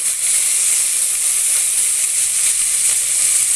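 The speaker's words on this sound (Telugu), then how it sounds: "ఆనియన్, పచ్చిమిర్చి లైట్ గోల్డెన్ బ్రౌన్ వచ్చేంత వరకు ఫ్రై చేసుకోవాలి." Sliced onion and green chillies frying in hot oil for an Andhra-style chicken curry, a loud, dense, steady sizzle and hiss held close throughout with no stirring strokes or voices.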